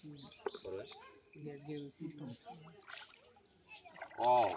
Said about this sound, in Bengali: গ্রামের পুকুর পাড়ে কি সুন্দর পাখি কিচির মিচির শব্দ করতেছে